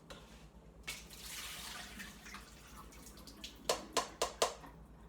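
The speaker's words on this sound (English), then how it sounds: "I'm gonna pour out the matzah with the water over the sink so that the water goes away" Water from soaked matzah is poured through a strainer into a kitchen sink, a soft splashing rush that fades, then a few sharp separate drips and splats near the end.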